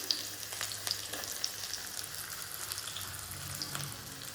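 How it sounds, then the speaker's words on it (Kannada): Garlic and chillies fry in a pan with a steady, soft sizzle and occasional small pops, close and fairly quiet throughout. "2 ಹಸಿಮೆಣ್ಸಿನ್ಕಾಯಿ ಆ್ಯಂಡ್ 4 ಡ್ರೈ ಚಿಲ್ಲಿ ಹಾಕೊಂಡು ಅದು ಚೆನ್ನಾಗಿ ಫ್ರೈ ಆಗಬೇಕು"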